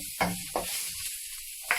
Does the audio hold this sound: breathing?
no